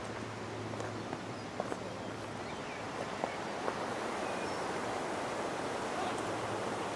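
Strong rushing water at the end of a trail, a dense steady roar close by that stays constant throughout, with a few faint scuffs and footsteps over it.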